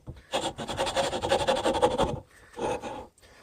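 The finer side of a rasp is worked along a wooden hammer handle during a restoration, producing a long, rhythmic scraping run of strokes, then a short pause and one more brief burst, close and alone.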